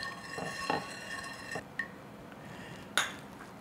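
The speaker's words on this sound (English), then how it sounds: "then I'm going to add some sugar to it. Mix it up." Spoon stirring sugar into coffee in a cup or dish for tiramisu, with a few light clinks and taps against the container at irregular intervals, close by and fairly quiet, no talking.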